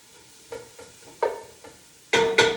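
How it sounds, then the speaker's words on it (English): Green onions and jalapeño sizzle in a pan with bursts of stirring or tossing, the frying growing louder toward the end. "I hear my green onions and jalapeno cooking back here"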